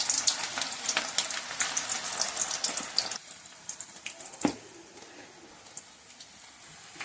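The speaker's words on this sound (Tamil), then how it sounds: "இப்போ எண்ணெய் காஞ்சிச்சு. இப்போ கொஞ்சமாக எடுத்து அப்படியே பகோடா போட்டுடலாம்." Pakoda fritters sizzle in hot oil, a dense crackling hiss that is loud for the first few seconds, then quieter with scattered pops and one sharp splash midway, with no talking.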